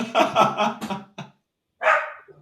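A dog barks indoors during an online conversation: a rapid string of several loud barks, a short gap, then one more bark, close and clear with no speech over it.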